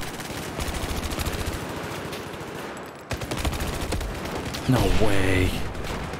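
Rapid automatic gunfire rattles in sustained bursts in Battlefield 2042, loud and close, briefly pausing before resuming, with a player speaking over the shooting near the end.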